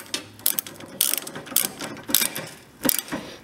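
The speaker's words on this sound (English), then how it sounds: "Now just tighten the nuts." A ratchet clicks in short bursts while tightening nuts on the AC condenser pipes of a Hyundai Accent, several quick ratcheting runs close by with brief pauses between them.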